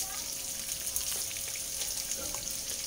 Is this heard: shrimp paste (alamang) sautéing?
yes